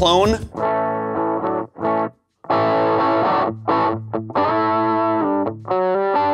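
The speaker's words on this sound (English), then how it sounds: "This is like a heavy Marshall influenced overdrive distortion kind of thing." A loud electric guitar through a heavy Marshall-style overdrive distortion pedal plays crunchy, heavily overdriven chords and notes in short phrases separated by brief pauses.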